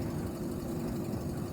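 A car engine runs steadily in The Long Drive, a worn engine due for replacement, giving a constant low droning hum at moderate distance with no voices.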